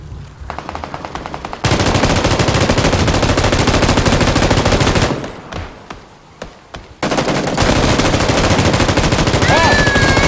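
Gunfire in PUBG, loud rapid automatic bursts that run almost nonstop, broken by a short lull with scattered single shots before the sustained firing resumes.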